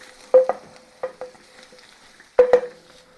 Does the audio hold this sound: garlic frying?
yes